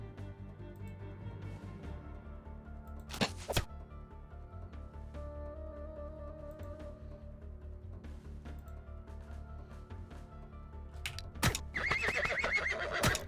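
Horses whinnying and neighing in the fantasy strategy game Eador Genesis, several distinct calls against a continuous low game-music drone, with hoof clip-clop and battle clatter near the end.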